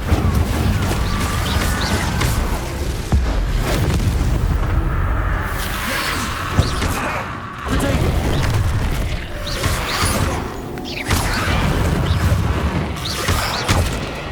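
Incendio fire spells cast in the Hogwarts Legacy video game during a dungeon fight, a dense, loud stretch of booming, crackling blasts and rumbling bursts that keeps up for the whole passage with hardly a lull, without speech.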